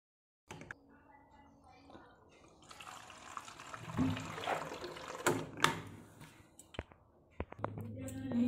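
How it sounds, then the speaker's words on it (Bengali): Water bottles being filled from a tap at home: running, gurgling water with a few clunks and knocks of bottles being handled, close by, with no speech. "এই যে জলের বোতলগুলো সব ভরে নিলাম।"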